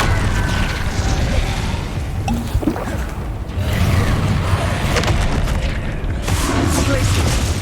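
Explosive fire spell blasts in the Hogwarts Legacy video game, heavy booming bursts over a dense, continuous wash of game noise, with a sharp loud burst around the middle and more rumbling impacts later.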